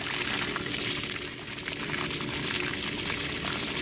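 Dirty water gushes out steadily while an Intex pool pump is backwashed, a continuous dense rushing and splashing flow, close and unbroken for several seconds.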